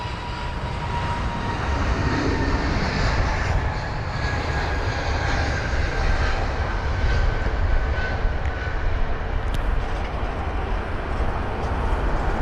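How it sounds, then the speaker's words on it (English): Aer Lingus airliner taxiing at London Heathrow, a loud, steady broadband engine roar with a faint whine holding constant throughout, no voices. "Aer Lingus on the move."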